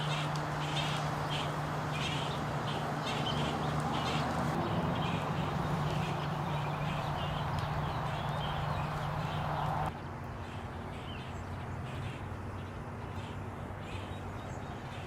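Birds call and chirp repeatedly in the outdoor ambience, their calls spread across the whole stretch over a steady background hum, moderately loud, with no talking.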